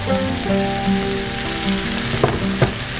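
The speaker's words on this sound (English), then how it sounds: "Kind of want the prosciutto to crisp up, the garlic to get nice and soft, and the spring onions to wilt." Prosciutto, garlic and spring onions fry together in a pan with a steady, close sizzle. A couple of sharp clinks come near the end, and faint sustained tones run underneath.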